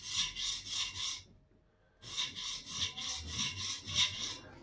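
A plane iron is ground freehand, hogging off metal fast. Quick rhythmic back-and-forth scraping strokes run close and loud, break off for about a second, then resume at the same brisk pace.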